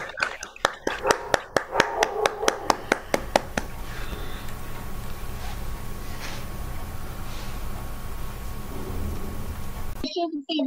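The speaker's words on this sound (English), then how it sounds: "I request all of you to unmute yourself and just clap for this wonderful day." Participants in an online team session unmute and clap: a rapid series of sharp, distinct claps over the first few seconds, then faint broadband noise and a low hum with scattered murmurs.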